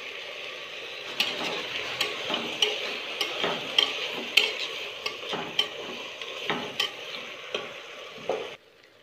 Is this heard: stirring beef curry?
yes